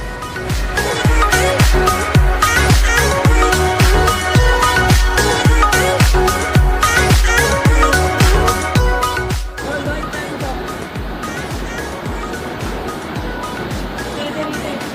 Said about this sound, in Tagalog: Galit na galit yung